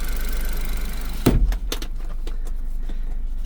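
Suzuki Carry mini truck engine idling steadily with a low, even rumble in cold weather, interrupted near the start by a brief loud clunk of the seat being lifted, followed by a few light rattles.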